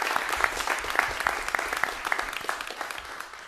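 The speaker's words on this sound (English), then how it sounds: "Let's have a round of applause for the CSUMB and the president." Audience applause for CSUMB and its president at a special board meeting colloquium, dense steady clapping from a sizable crowd that tapers slightly toward the end.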